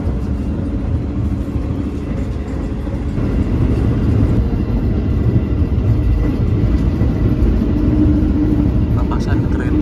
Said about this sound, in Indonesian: Papasan kereta Progo